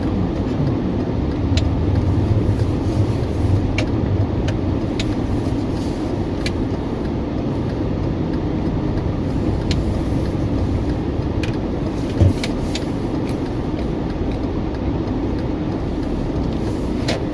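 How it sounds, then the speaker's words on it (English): Steady stream of cars passing on a road by a business park, a continuous loud traffic roar with brief higher tyre swishes, no voices over it. "there's so many cars on the road heading to, I think it's a business park"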